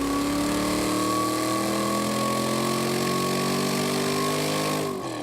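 A V8 engine on a dyno with a Cherry Bomb muffler, revving steadily upward toward 6000 rpm in a loud, rising exhaust drone that cuts off abruptly near the end.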